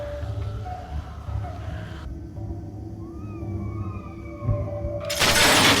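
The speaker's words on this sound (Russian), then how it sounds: "Звон стекла." Glass shatters with a bright, noisy crash at the very end, following a low droning ambience with faint wavering tones, in a dark horror-story setting.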